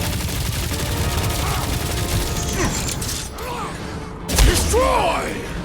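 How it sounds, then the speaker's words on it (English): Gunfire and clattering combat mechanisms from the video game Guardians of the Galaxy fill the mix with continuous busy noise. Characters speak over the din in the game. "Sounds like a lot of Flark and gunfire!"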